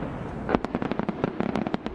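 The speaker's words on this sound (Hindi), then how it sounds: "आतिशबाजी का ऐसा मंजर मानो फलक से ढेरों महताब झांक रहे" A festival fireworks display in Kubinka, Russia crackles and pops, with a rapid irregular string of sharp bursts and firecracker-like snaps that is steady and fairly loud throughout.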